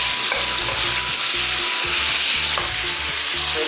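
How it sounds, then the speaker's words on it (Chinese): Crucian carp sizzle and crackle in hot oil in a wok, a loud, dense, continuous frying hiss with steady bubbling and no voices. "起锅烧油，锅烧热下油，再把鲫鱼放进去"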